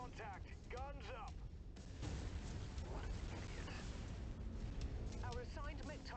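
Mechwarrior 5 video game combat with continuous heavy weapons fire and rumbling explosions under a dense game soundtrack, while radio-style voices chatter over the action throughout.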